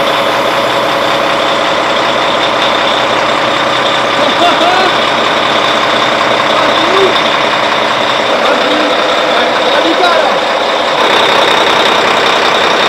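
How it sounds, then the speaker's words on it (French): Large truck-type engines aboard a 72-metre, 700-tonne barge, running with a loud steady drone and rumble that holds for the whole stretch, under occasional talk nearby. "Démarrage des gros moteurs de camion les gars,"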